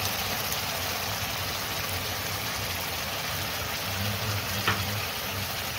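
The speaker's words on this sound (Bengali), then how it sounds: "মশলাটাকে এবার টক দইয়ের সাথে একটু ভাজবো।" Spice masala frying with sour yogurt in a pan, a steady, close hiss and bubbling crackle that holds at an even level throughout, with no speech.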